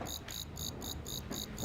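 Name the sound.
pet katydid chirping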